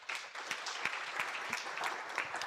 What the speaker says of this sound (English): Ladies and gentlemen, give her a good clap.